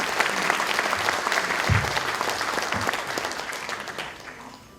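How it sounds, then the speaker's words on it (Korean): An audience at a university president's inauguration ceremony claps to welcome a speaker, producing dense, sustained applause from a hall full of people that stays loud and even before slowly fading near the end. "박수로 맞이해 주십시오"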